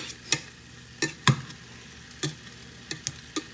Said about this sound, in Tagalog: So, maluluto na yan siya dyan sa kanyang mantika.